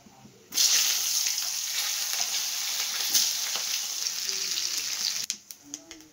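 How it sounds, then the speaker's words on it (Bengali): Vegetables sizzle loudly in hot oil, a dense continuous frying hiss that starts abruptly and stays close and strong, then fades into a few light clinks and stirring sounds at the end. "এবার ভেজে নেবো সবজিগুলো"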